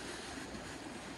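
A river running high after snowmelt rushes in a continuous broad roar, steady and loud close by, with no voices.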